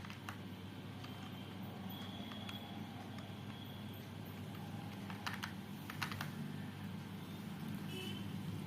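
Typing on a computer keyboard while entering data in a spreadsheet, scattered light key clicks over a steady background rumble that sounds like distant traffic.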